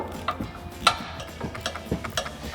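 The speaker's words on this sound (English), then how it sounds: "Get our Allen wrench into the center of the shaft" An Allen wrench turns and clicks inside the upper mounting shaft of a Roush 1.50-inch front suspension lift on a 2017-2025 Ford F-250 Super Duty, giving a few faint, irregular metallic ticks up close.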